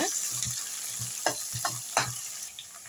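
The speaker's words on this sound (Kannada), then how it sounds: "ಇವಾಗ ಈರುಳ್ಳಿನ ಸ್ವಲ್ಪ ಚೆನ್ನಾಗಿ ಫ್ರೈ ಮಾಡೋಣ" Sliced onions frying in a pan for chicken biryani, a steady close sizzle with a few sharp scraping stirs of a spoon punctuating it, no voices.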